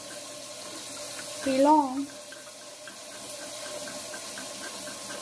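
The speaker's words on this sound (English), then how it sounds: "Now, put some water in this" Tap water runs steadily into a pan in a home kitchen while beef and broccoli is cooked, a constant rushing stream that a brief voice interrupts partway through.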